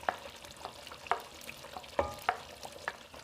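Kontomire stew with freshly added tomatoes cooks in a pot, faint sizzling broken by a few sharp scraping clicks of stirring, with no talking.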